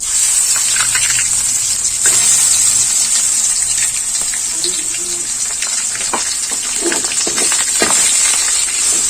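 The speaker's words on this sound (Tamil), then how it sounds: "ஒரு நாலஞ்சு காஞ்ச மிளகா நல்லா பொரிஞ்சு வரட்டும்" Dried red chillies and a ground pirandai (adamant creeper) paste fry in hot oil in a home kitchen, a steady, loud hiss and crackle running throughout with scattered pops and brief soft stirring sounds.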